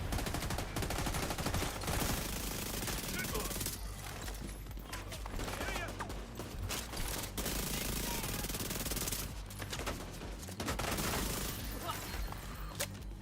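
Submachine gun fire in The Division 2, during a heroic-difficulty PvE mission, rattles in long sustained bursts with brief pauses, dense and continuous beneath the game's other noise.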